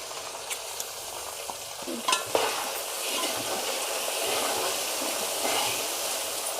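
Ginger garlic paste frying in a generous amount of oil for a chicken pickle: a dense, continuous sizzle with a few clinks and stirs early on, close and steady throughout without speech.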